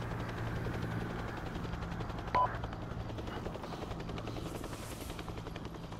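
Steady rotor chop and engine drone of a rescue helicopter throughout, with a brief electronic beep partway through and no talking.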